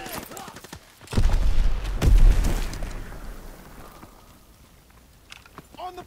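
Grenade blasts in Call of Duty gameplay, with two heavy booming bursts about a second apart followed by a fading rumble, under shouted in-game soldier voices.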